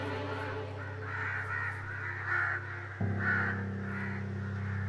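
In the game Only If, crow caws come from a giant black cloud and repeat over a steady droning backdrop that shifts partway through, staying fairly loud with no speech.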